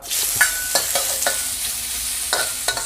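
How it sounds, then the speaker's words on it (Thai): Curry paste, the seasoning set aside from a pork marinade, is stir-fried in a pan with a loud, bright sizzle and quick, repeated scrapes and clinks of a spatula at close range. "ผัดให้หอมนะฮะ"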